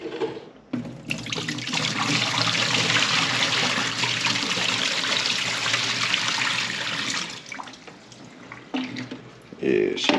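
Dirty water pours out of an aquarium canister filter container in a steady splashing stream for several seconds, with brief handling noises before and after.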